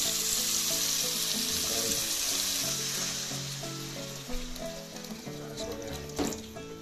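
Hot water poured into a pan of spices and green chillies frying in oil, a loud rushing sizzle that gradually settles, with a few clunks of utensils near the end; no talking.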